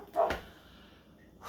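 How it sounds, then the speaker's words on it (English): A dog barks once or twice, a short, muffled woof from somewhere indoors or nearby, then falls quiet against faint room background. "You're gonna hear my dog barking."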